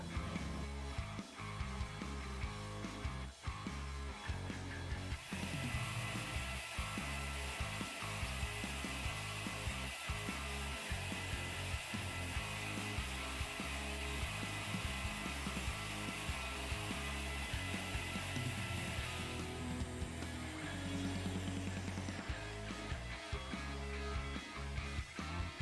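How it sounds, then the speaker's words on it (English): An Avid CNC router cuts the hose opening in a dust shoe part, producing a loud, continuous grinding whine with rhythmic pulsing that shifts in tone partway through. "Here I'm cutting the opening with a solid lip that will serve as the dust hose attachment point."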